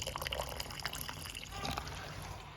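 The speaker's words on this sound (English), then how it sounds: "add more boiling water so that we can obviously cover the eggs" Boiling water poured into a pan for poaching eggs, a close, steady trickling and splashing that runs throughout with a little dribbling at the start.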